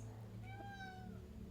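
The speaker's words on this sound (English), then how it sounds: "my cat," A house cat gives one drawn-out meow, faint and somewhat distant, rising then falling, under a steady low hum with a voice faintly present.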